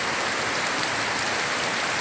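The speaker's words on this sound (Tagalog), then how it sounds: "at lalo pang lumakas yung ulan." Heavy rain pours steadily in front of a house during a flood, a dense, constant broadband hiss of water with no pauses and no one speaking.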